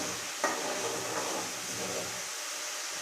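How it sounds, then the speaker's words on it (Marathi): Spiced masala being stirred in hot oil for a homestyle village fish curry, a steady soft sizzle with a brief scrape of the spoon near the start, fading slightly toward the end. "सगळा मसाला टाकून घेतला तेलामध्ये आपण चांगला हलवून घेऊ असं"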